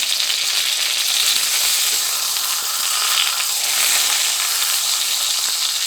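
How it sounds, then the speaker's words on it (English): Pork chops sear in a hot pan with a steady, dense sizzle and frying crackle that holds evenly throughout, no voices over it. "going to just sear that on each side for about 2 minutes on each side"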